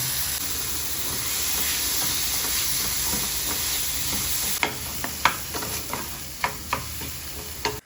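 Onion and tomato masala with turmeric, salt and Agri special spice mix sizzles and hisses steadily in a hot pan, then a spoon scrapes and stirs in several sharp, irregular knocks.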